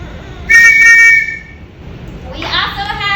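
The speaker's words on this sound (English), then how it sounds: "They're called metropolitan whistles. They're also called bobby whistles" A metropolitan police whistle, also called a bobby whistle, gives one loud shrill blast lasting about a second, followed by a voice talking.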